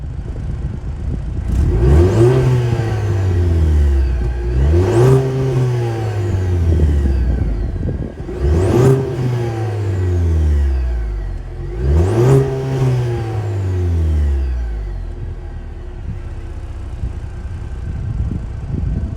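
The 2.7-liter turbocharged inline four-cylinder of a 2025 Cadillac CT4-V revs loudly four times in succession, each climb rising to a peak then dropping back to idle, close and alone with no talk.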